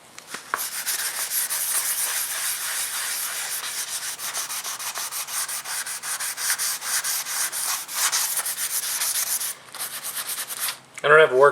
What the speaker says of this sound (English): I'm going to do is sand this down and then recoat it